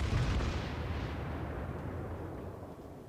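Heavy battleship gunfire and torpedo impacts in the naval combat game World of Warships, a loud deep boom at the start rolling into a sustained low rumble that slowly fades, with no talking.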